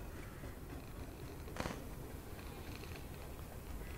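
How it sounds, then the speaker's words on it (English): A cat purrs softly at a dark campsite, a low continuous rumble near the threshold of hearing, with one brief rustle or tap partway through. "I hear the purring of a cat"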